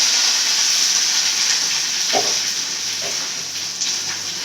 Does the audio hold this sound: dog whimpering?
no